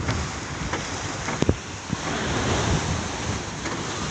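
Sea waves wash and churn around a small boat out at sea, with heavy wind buffeting the microphone and a few sharp knocks against the hull in the steady roar.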